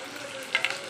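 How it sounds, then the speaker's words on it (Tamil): Shallots frying with salt in a pan give a soft continuous sizzle, broken by a couple of quick scraping stir strokes. "கொஞ்சமாக உப்பு போட்டு நல்லா வணக்கிக்கலாம்."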